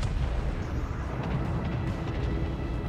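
Battleship King George V firing its guns in World of Warships Legends, a dense, rumbling roar of heavy cannon blasts rolling together, loud and sustained, with no talking.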